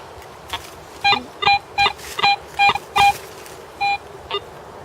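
A metal detector in the woods signals over a buried coin with a series of short, clear electronic beeps, about eight in irregular succession, loud against quiet outdoor background.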